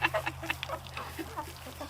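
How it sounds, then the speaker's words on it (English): Chickens pecking at grain make quick, irregular tapping and scratching noises up close, mixed with soft clucks and low murmurs throughout. "as we're standing here listening to the chickens eat the grain"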